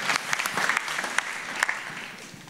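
Church audience clapping for people called up to the front at a service, a short burst of dense applause with sharp individual claps, fairly close, then tapering off.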